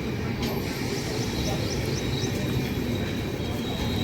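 A Dattapeeta Express train running on the journey from Tirupati to Chikkamagaluru, a loud continuous rumble and rattle of the carriage with faint wheel squeals, heard from inside.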